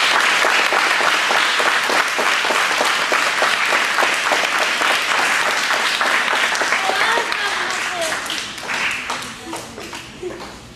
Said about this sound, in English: So I'd like you to give fourth grade a round of applause.